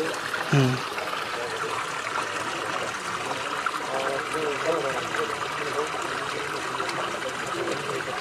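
Water from a running motor pump trickles and streams steadily into a pit in the background, with faint voices talking now and then.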